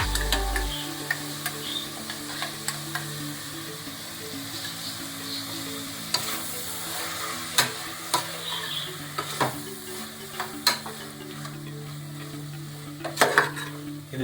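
A masala paste of spinach and spices sizzles steadily in a pan over a low flame, with a continuous frying hiss and occasional light stirring clicks and scrapes throughout.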